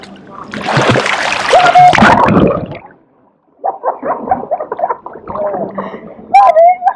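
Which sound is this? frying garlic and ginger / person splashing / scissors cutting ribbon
person splashing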